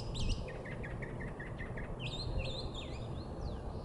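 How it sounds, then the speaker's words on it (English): Chilean mockingbird near Santiago, Chile, delivering a chattering song of rapid, varied warbled phrases and whistled notes, fairly close over a steady low rumble of background noise. "Its chattering song is a familiar sound to Chilean birders."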